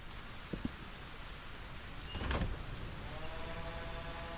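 Rain falls in the Solarpunk video game, a steady soft hiss throughout with a couple of faint knocks early on and a brief louder rushing swell partway through.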